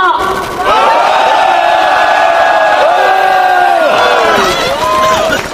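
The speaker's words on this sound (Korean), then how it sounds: "다 함께 크게 함성 부탁드립니다." A large crowd at a Korean political election rally roars a loud, sustained shout in unison, the massed voices swelling and wavering together for several seconds before tapering off.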